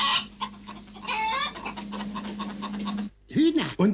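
A man imitates clucking chickens with his voice, a run of choppy, breathy clucks and squawks lasting about three seconds, followed after a short gap by a rising vocal cackle.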